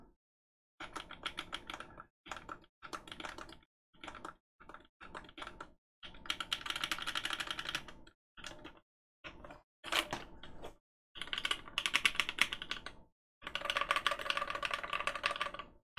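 Typing on a Flygone 65 prototype mechanical keyboard, bursts of clacky keystrokes separated by short pauses, with some dense rattling runs, close and fairly quiet.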